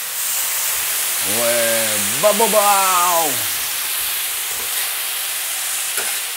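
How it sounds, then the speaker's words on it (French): Red wine hitting a hot pan to deglaze it while fish cooks, a constant loud broad sizzling hiss, with a man's drawn-out voice briefly heard over it. "On va tout déglacer avec le vin rouge"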